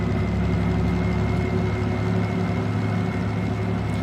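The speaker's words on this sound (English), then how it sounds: "as we start to hear the engine pick up" Train locomotive engine in the Derail Valley video game, a steady droning hum with tonal whine and low rumble, continuous and moderately loud with no talk.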